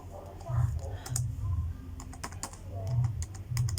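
Commands typed on a computer keyboard while setting up an SSH server on a VPS, with quick bursts of clacking keystrokes and soft thuds under intermittent talking.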